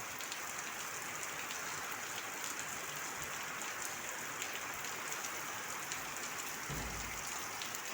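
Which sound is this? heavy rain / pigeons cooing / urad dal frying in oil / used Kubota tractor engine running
heavy rain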